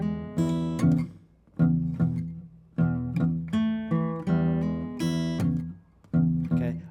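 A slow fingerstyle blues shuffle on guitar, with plucked bass notes and chord stabs in a loping rhythm, close and unaccompanied.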